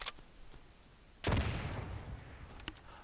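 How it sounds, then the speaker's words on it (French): A grenade blast in the World War II shooter Easy Red 2: one sudden loud burst that rolls off into a lingering rumble, followed by fainter scattered shots in the distance. "Grenade."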